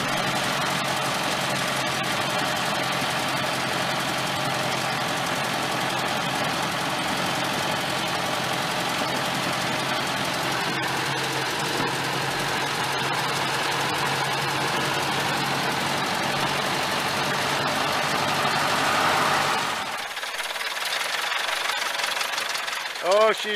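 An old vehicle's engine idles with a steady, rough rattling drone throughout, close and fairly loud, before the sound drops away near the end.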